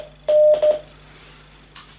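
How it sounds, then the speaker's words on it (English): Short burst of Morse code over a ship's tannoy, a single clipped tone broken into quick pulses, loud and close, then fading into low hum. "Morse code."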